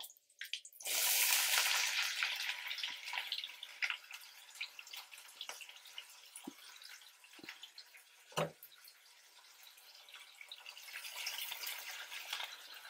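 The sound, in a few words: onions and curry leaves frying in oil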